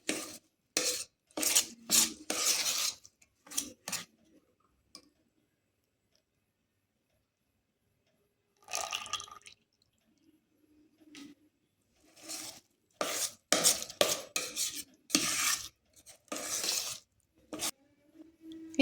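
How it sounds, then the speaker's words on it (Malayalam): A spoon stirs jaggery syrup in a pot for paaputtu, making close, intermittent scraping and clinking strokes in quick bursts separated by a long quiet gap. "അതിട്ട് നന്നായി ഇളക്കുക"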